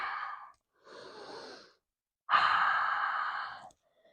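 A deep yoga breath: a short breathy exhale, a softer inhale after a pause, then a longer, louder sighing exhale, all close and quiet with no talking.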